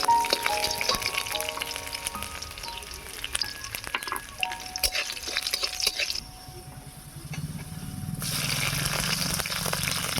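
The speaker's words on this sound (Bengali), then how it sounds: "এবারে দিয়ে দিচ্ছি কাঁচা লঙ্কা, পেঁয়াজ কুচি। সব কিছু একসঙ্গে ভালো করে ভেজে নেব" Green chillies and chopped onion frying in hot oil in a pan for potol bhorta, a steady close sizzle that drops away briefly and then returns louder.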